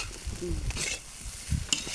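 Fried rice with shrimp fat is stir-fried in a wok over a charcoal stove, with a steady close sizzle and scraping, clattering strokes of the spatula against the pan.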